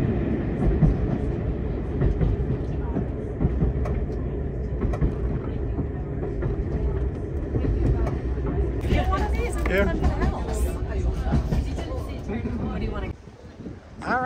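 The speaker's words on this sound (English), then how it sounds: "One of the most scenic train rides you can possibly go on." A passenger train runs on a scenic Scottish Highlands railway line toward the seaside town of Mallaig. A steady, loud rumble and rattle from inside the carriage carries on throughout, with brighter clattering near the end.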